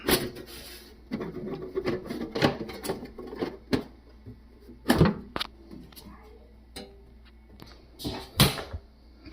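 The case of a Fluminer T3 is pried open after its four screws come out, with close rubbing, scraping and clicking plastic sounds in uneven bursts, interrupted by a few sharp knocks, and a voice heard at times.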